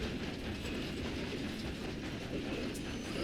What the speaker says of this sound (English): So first I grabbed a train and started rolling it forward like normal.